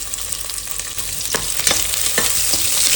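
Chopped onions sizzle loudly in hot oil in a pan for a country chicken curry, a continuous bright frying hiss with a few stirring scrapes, growing slightly louder, no voices.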